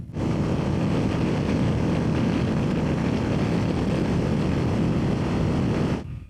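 A Zontes T350X motorcycle engine gives a loud, steady roar, holding at high revs without a break at about 163 km/h, then cuts off abruptly near the end.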